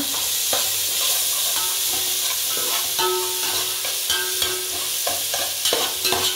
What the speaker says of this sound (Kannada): ಇವಾಗ ನಾನು ಒಂದು ಟೊಮಾಟೋನ ಕಟ್ ಮಾಡಿ ಇಟ್ಕೊಂಡಿದ್ದಲ್ವ, ಇದನ್ನು ಕೂಡ ಚೆನ್ನಾಗಿ ಹಾಕ್ಕೊಂಡು ಸ್ವಲ್ಪ ಫ್ರೈ ಮಾಡ್ಕೊಳ್ಳೋಣ